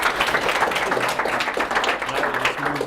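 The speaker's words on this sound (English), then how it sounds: "please clap." Steady applause from a crowd, a dense wash of clapping that holds at an even level for a few seconds.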